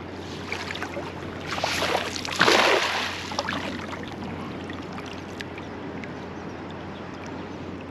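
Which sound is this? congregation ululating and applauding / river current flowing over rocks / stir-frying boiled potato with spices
river current flowing over rocks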